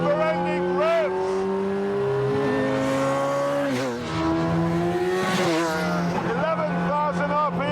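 A high-revving supercar engine screams continuously up to 11,000 RPM, pitch climbing and dropping through rapid gear changes, loud and close.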